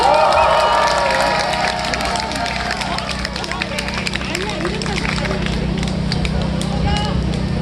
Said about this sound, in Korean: 멋진 발언 이어준 우리 호랑 군한테 다시 한 번 큰 박수 부탁드리겠습니다.